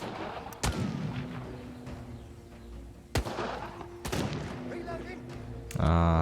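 Gunfire from the World War II real-time tactics game Partisans 1941: a few loud, sharp shots spaced several seconds apart, with a final heavy burst at the end, amid ambient game sound and no speech.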